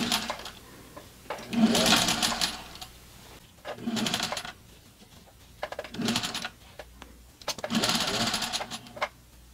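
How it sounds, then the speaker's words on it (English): Sewing machine stitching a machine-knitted cardigan, running in several loud, rhythmic bursts with brief quiet pauses between them, close up and alone. "After connecting the ends, I'm going to continue sewing to the end here."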